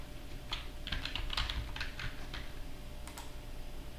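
Typing an admin password on a computer keyboard, with a quick burst of clicky keystrokes in the first two seconds and a couple of faint taps near the end, set against a quiet room hum.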